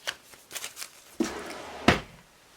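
Paper cash envelopes being handled close by, with soft rustling, light slaps and a couple of sharper flicks as they are pulled out and shuffled.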